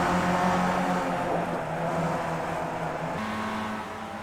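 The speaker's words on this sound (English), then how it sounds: "Here goes Tran up into second, though, overtaking Cocky." Racing cars in a Formula-style video game race at Imola roar continuously, engines droning and shifting pitch as one car overtakes another, fairly loud with no talking.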